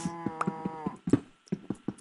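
Cow mooing in the Minecraft video game: a short, clear bovine moo up close, followed by rhythmic clicking footsteps or game thuds.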